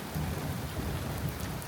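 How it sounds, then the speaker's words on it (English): A thunderstorm pours rain in a dense, loud hiss, with low rumbling thunder rolling underneath the whole time and no voices. "Thunderstorm, so I've put that on hold."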